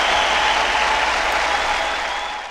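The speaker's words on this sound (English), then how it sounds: "Let's give a hand clap for that one." Dense applause from many hands, a loud, even wash of clapping that holds steady and then begins to fade toward the end, with no voices over it.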